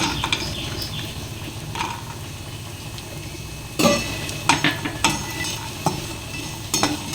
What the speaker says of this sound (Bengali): এইবারে আমি বড়ি কটা ভেজে নেব।